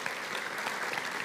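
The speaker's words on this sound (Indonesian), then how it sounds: "Yang percaya kasih tepuk tangan bagi Tuhan kita." A church congregation applauds, a brief steady wash of many hands clapping at moderate distance.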